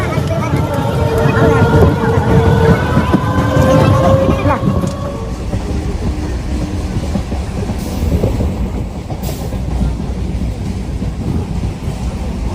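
A crowded passenger train runs on the Sealdah–Lalgola line through Murshidabad, heard from inside as a loud, steady rolling rumble with tonal whines in the first few seconds before settling into constant wheel and carriage noise.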